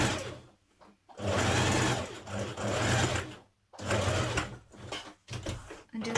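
Domestic sewing machine stitching the sleeve and top of a spring dress, several sustained whirring runs broken by brief pauses, loud and close with no talking.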